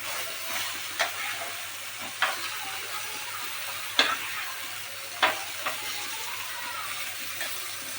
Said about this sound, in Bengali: দেখুন এইভাবে ওলট পালট করে বেগুনগুলোকে ভালো করে এরকম করে ভেজে নিতে হবে